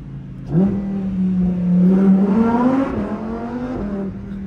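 A 2021 Lamborghini Huracan EVO engine revs hard, its pitch climbing and dropping through several loud pulls, with a booming, enclosed echo inside a tunnel.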